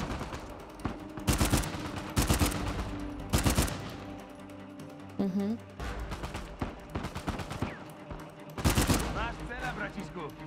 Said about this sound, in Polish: Jedno naciśnięcie, pociągnięcie za spust robi taki potrójny strzał